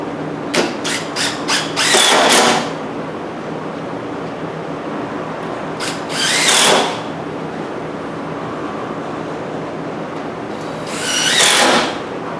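A power drill drives screws into the base of a heated dog house, with three short whirring bursts spaced several seconds apart, the first preceded by a few sharp taps, over quiet background and no talking.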